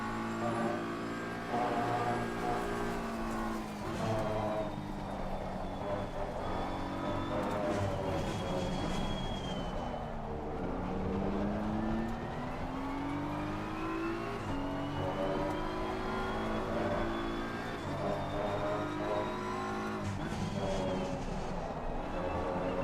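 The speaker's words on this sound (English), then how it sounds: "And there's another 20 McLarens behind me." A pack of McLaren race cars in a racing sim at Misano, with layered engines revving and whining through gear changes. The sound is loud and continuous, with several cars close together.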